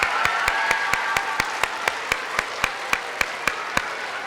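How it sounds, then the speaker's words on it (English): A school assembly claps for a departing teacher, a brief burst of applause with sharp, regular claps standing out above a steady crowd patter. "Can we all give him a round of applause for the work he's done?"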